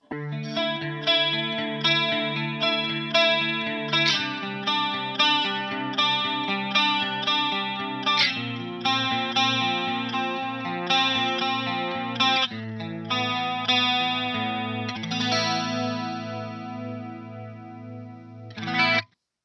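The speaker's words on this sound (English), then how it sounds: "Sounds like a pretty decent chorus effect" An electric guitar played through a Pogolab chorus pedal, a Boss CE-2 clone, with shimmering, warbling chords strummed in a steady rhythm, clear and fairly loud.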